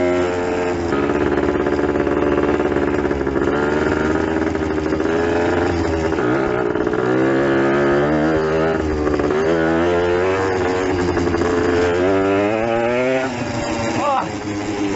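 A Yamaha enduro motorcycle, back on the road after 20 years of sitting, rides bumpily across a field, its engine droning loud and steady with rising and falling pitch as the rider shifts gears throughout.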